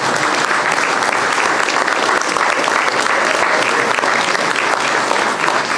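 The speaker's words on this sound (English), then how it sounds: "give him a round of applause" Audience at a high school alumni club event applauding an author, dense sustained clapping from a crowd that stays loud and steady throughout with no talk over it.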